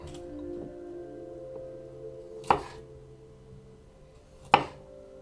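A knife slices off the top of a lunch wrap, two sharp close chopping taps against a board a couple of seconds apart over a faint steady hum.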